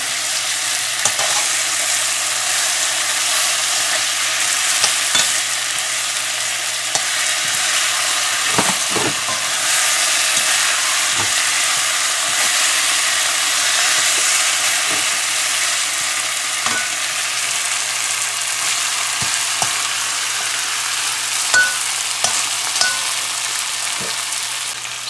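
Kalonji curries in a pot with coconut milk, giving a steady bright sizzle and frying hiss, with occasional scraping knocks from stirring spread across the whole stretch, close and without talk.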